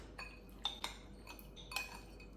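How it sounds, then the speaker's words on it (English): Pasta chips get tossed with Parmesan in a bowl, with faint spoon clinks and a few light taps against the bowl over a quiet background. "Make sure that we mix it up so it's well combined."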